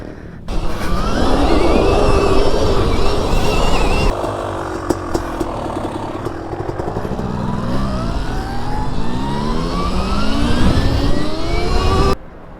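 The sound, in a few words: motocross dirt bikes riding on the road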